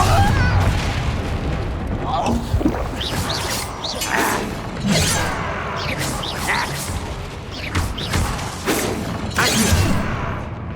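Fire-blast spell explosions in Hogwarts Legacy go off in a dense, loud barrage of booms and crackling debris bursts, one after another, over busy combat noise with a voice calling out spells.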